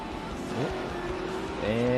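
Short-track race car engines rev and rise in pitch as a pack pulls away at Irwindale Speedway, several motors overlapping under a track announcer's voice.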